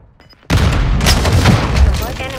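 A frag grenade goes off in a multiplayer shooter video game: a sudden loud blast breaks a near-quiet moment and gives way to a sustained roar of rumbling battle noise.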